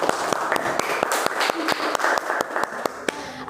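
A classroom of schoolchildren claps together during a group presentation, a steady run of sharp hand claps with a few louder accented beats, close and continuous throughout.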